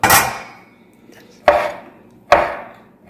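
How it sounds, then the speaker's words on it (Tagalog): A knife chops pork into small pieces for sisig on a board in three sharp, close, evenly spaced thuds, each one ringing briefly before fading, with no talking. "Hiwain lang natin siya ng maliliit."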